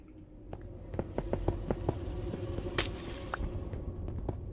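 Glass blocks in Minecraft shatter repeatedly, a series of crisp breaking clicks in quick succession followed by one bright crashing burst, over a low background hum.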